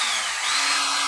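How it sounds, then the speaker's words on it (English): A power drill runs continuously for about a second, a loud, close, high-pitched whine held at a steady pitch, with no talking. "I've brought along a drill"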